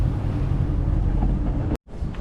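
A parasailing boat sits at Candolim beach in Goa, heard as a loud, continuous rumble of engine and wind buffeting the microphone over the sea. A sudden brief dropout near the end is followed by the same roar.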